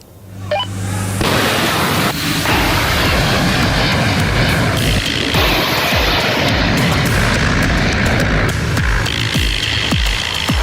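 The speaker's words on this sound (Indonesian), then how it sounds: "Jet tempur Super Hornets lepas landas dari kapal induk Amerika Serikat Abraham Lincoln" Super Hornet fighter jets launching from the US aircraft carrier Abraham Lincoln: after a brief quieter start, a loud, sustained jet roar fills the deck, with sharp bursts and thumps of launch activity mixed through it.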